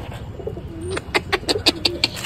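Pigeons coo nearby in a quick series of soft, throaty calls after a moment of quieter background sound.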